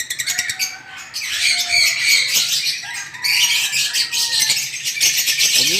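Lovebirds in an aviary in Pampanga squawk and chirp in a busy, constant chorus of harsh, close calls with no talking.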